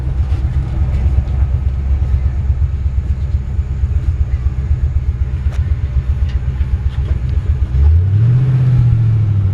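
A 1964 Chevrolet C-10 pickup truck's engine rumbles low and steady while driving, with a deeper rising growl swelling near the end as it pulls.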